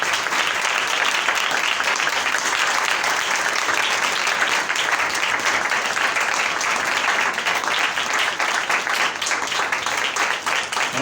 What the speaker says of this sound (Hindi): सबसे पहले भरपूर तालियां खुदा के कलाम के लिए।